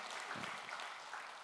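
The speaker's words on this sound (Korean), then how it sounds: "우리 큰 박수로 맞이하겠습니다" Faint, steady applause from a church congregation welcoming newcomers during a Sunday worship service at a church in Busan, a soft wash of clapping throughout.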